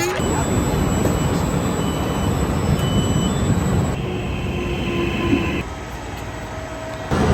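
A regional train runs between Riomaggiore and Manarola in the Cinque Terre, with a loud, steady rumble of wheels and carriage noise, a high squeal, and a brief drop in level near the end.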